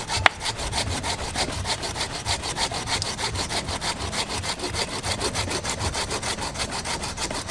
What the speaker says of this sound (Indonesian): Pemotongan akarnya itu dipotong lurus aja atau agak miring Mas Olis biasanya?